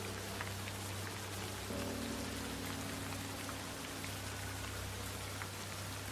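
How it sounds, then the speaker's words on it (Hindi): Steady rain falls on a surface, an even hiss with scattered drops, moderately quiet and unbroken throughout. "धीरे धीरे बारिश होने लगी।"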